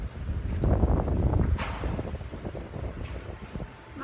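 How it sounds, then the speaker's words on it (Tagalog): Gusty wind blows under a mango tree outdoors, a loud buffeting rush that swells and fades, with crackling gusts hitting the microphone. "Mahangin dito sa puno ng mangga."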